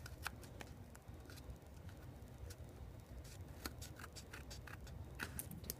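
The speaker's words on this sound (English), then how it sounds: "we're going to cut this circle off as well." Scissors snip a paper circle for a handmade poinsettia holiday card: quiet, rapid, irregular cutting clicks close by, with no talking.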